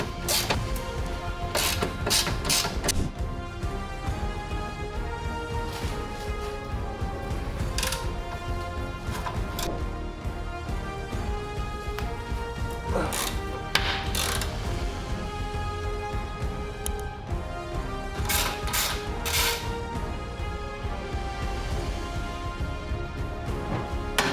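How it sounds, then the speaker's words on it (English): A ratchet wrench loosens bolts on car suspension parts, its rapid clicking pawl running in repeated bursts over a steady mechanical background, close and continuous with no talking. "After marking the camber adjustment screws, we unbolt the rest."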